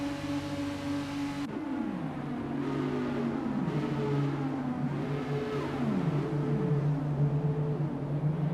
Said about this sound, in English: We are almost ready to start the Formula 2 race as the cars take their positions on the grid